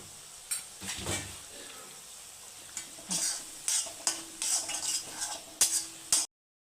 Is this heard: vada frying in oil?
yes